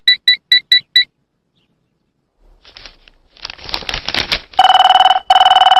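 A quick run of five sharp electronic beeps, a pause, some rustling and patter, then a loud electronic phone ring sounds twice, close by.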